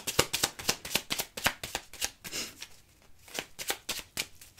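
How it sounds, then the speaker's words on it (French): Tarot cards shuffled by hand in a quick, crisp run of riffling flicks, a brief pause, then more rapid card slaps and snaps, close and clear with no talking. "je vais tirer 12 cartes parce que les 12 maisons astrologiques"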